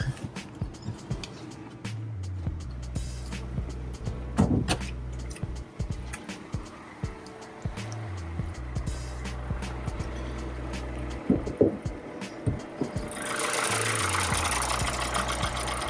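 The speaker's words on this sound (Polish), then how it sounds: "silnik jak widzicie i słyszycie pracuje sobie cicho," A Renault Kadjar 1.3 petrol engine idles smoothly and quietly at a steady low rumble, with occasional small clicks and knocks and a brief rise in noise near the end.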